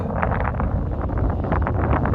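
Constant low rumble of wind buffeting the microphone in a field near Edirne during canola sowing, steady and loud throughout with gusty fluctuations.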